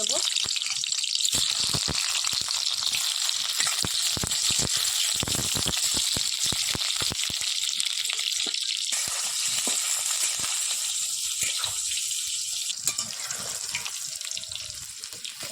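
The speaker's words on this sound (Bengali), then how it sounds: "আলুগুলো ভেজে নেব" Potatoes fry in hot mustard oil, a dense, loud crackling sizzle that runs unbroken, close to the pan and fading slightly toward the end.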